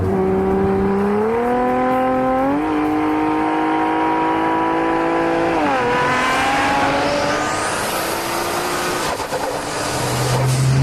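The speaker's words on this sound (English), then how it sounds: "This car has a beautiful cacophony of mechanical sounds." Race-built AMS Alpha 12 Nissan GT-R, a 1400-horsepower car, loud and close: engine revving up and down through gear changes with rising turbo whine, wastegate flutter and a busy mechanical cacophony throughout, with no talking.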